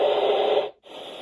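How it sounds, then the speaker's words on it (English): Steady brown noise from a Babelio Mini sound machine, a loud, continuous low rumbling hiss that cuts out for a moment and then resumes. "Brown noise. That one will work."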